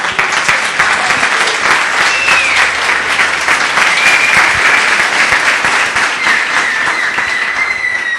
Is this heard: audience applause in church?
yes